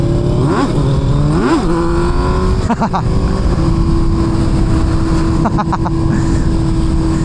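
A Kawasaki Z900 SE motorcycle engine droning loudly and close in third gear, rising and falling in pitch with a couple of sharp revs, while a rider talks over it.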